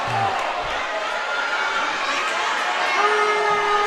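Lyons home crowd at a Clyde-Savannah vs. Lyons high school basketball rivalry game reacts to a foul call with a continuous murmur of voices, shouts and jeers in a gym, steady and fairly loud.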